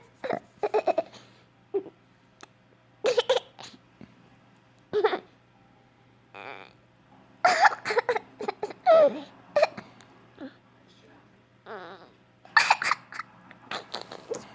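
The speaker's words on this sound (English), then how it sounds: "You got the hiccups, don't you?" Someone hiccups repeatedly in short, sharp, irregular bursts separated by quiet gaps, some mixed with soft whimpering or laughing sounds, close and fairly loud.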